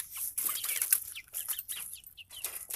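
A flock of Red Ranger broiler chickens, 47 days old, in a chicken tractor, making soft clucks and chirps with bursts of wing flapping and rustling, fairly faint and close, with no voices.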